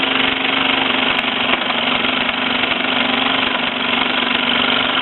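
A Mamod SE2 toy steam engine with an SE1-size boiler drives the line shaft of a toy workshop, running with a steady, close mechanical chugging and buzzing vibration that holds constant throughout with no talk.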